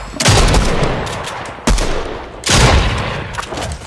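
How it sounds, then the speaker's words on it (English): Gunfire in Fortnite on an aquarium gun game creative map, heard as sustained rapid bursts with two sharp onsets punctuating the dense shooting, loud and close, without speech. "I died because this gun literally shoots like 2 miles per hour."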